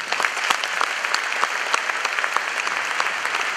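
Dense applause from a large audience at a high school commencement in Fowlerville, Michigan, a steady wash of many hands clapping at once, filling the whole stretch with no talk over it.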